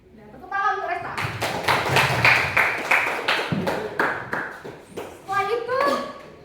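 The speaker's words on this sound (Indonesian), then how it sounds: "tepuk tangan untuk Resta" Applause from a classroom of students for a classmate, a burst of hand clapping lasting several seconds, with children's voices before it and after it.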